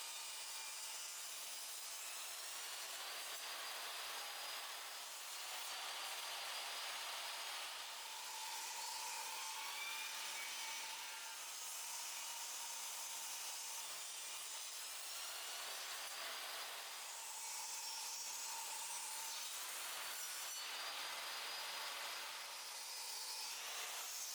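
Table saw ripping lumber against the fence, a steady whining cut that rises and falls through several passes, continuous and fairly close with no talking.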